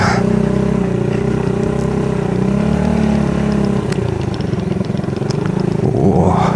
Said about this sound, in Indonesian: Harus pakai motor yang semi otomatis atau enggak ya pakai trail.